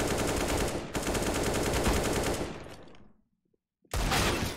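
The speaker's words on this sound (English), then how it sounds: "So I think Cactus and I found the secret to winning on Vertigo, and that would be auto shotties" Rapid automatic shotgun blasts in Counter-Strike on the Vertigo map, a dense loud volley for about three seconds that fades, a brief near-silent pause, then another burst of fire.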